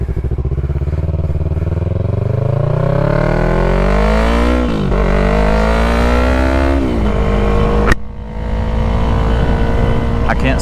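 A Yamaha MT-03 motorcycle fitted with an Akrapovic full-system exhaust revs hard and close, its engine note climbing steadily, dropping, rising again, then settling into a loud, rough idle after a sharp crack.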